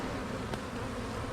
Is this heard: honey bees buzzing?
yes